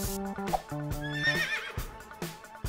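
A horse gives a loud, close whinny with a rising, quavering tone, framed by brief clip-clop hoof sounds and musical notes.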